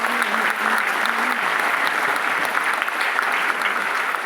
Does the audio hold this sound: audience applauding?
yes